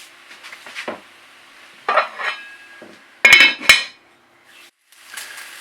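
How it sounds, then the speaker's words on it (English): A metal lid is set onto a pan of patatas bravas. Sharp clanks of lid and cookware come in short isolated bursts with quiet gaps between. "I'm just going to pop the lid on and help that cook"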